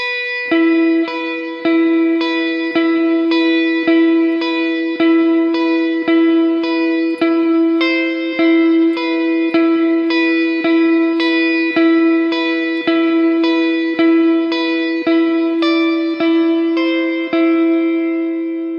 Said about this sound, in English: I'll play it one more time for you with a bit of reverb so you can see how it sounds, but that is your verse riff.